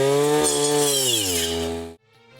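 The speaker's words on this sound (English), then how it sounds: "Weeder is being used by attaching this special circular blade for this purpose." A power weeder fitted with a circular blade prunes mulberry plants, its small engine whining loudly and close, then dropping in pitch before cutting off abruptly near the end.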